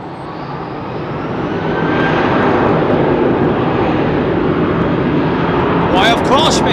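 Ex-KLM Boeing 747 Combi converted freighter departing Heathrow, a loud sustained jet roar that builds within the first two seconds and holds steady, heard alone from a distance.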